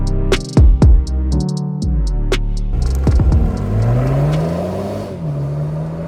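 A BMW M135i M Sport hatchback rated at 310 horsepower, a Cat N salvage car, accelerates hard on a test drive. Loud engine revs climb repeatedly through gear changes, heard close from inside the cabin.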